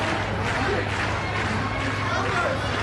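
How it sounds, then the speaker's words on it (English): Home rugby crowd at a Guinness PRO14 match between Zebre and Southern Kings, a steady broad roar of voices and cheering filling the stadium, dense and continuous with no distinct pauses. "Home crowd getting vocal now."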